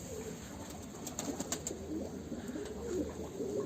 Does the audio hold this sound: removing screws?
no